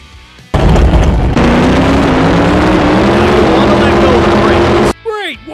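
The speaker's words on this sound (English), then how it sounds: "The goal of a burnout is to heat up the tires and lay down tire rubber on the track to have better grip" A drag racing tire burnout in the video game NHRA Speed For All: a loud, sustained engine roar with screeching tire noise and a rising whine that cuts off sharply, followed by brief clatter.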